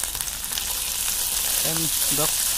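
Spice pastes of garlic, ginger, onion with cashew, chili and garam masala sizzle steadily in hot oil while being stirred for a Kerala-style rohu fish curry, a close, continuous frying hiss with brief tonal sounds partway through.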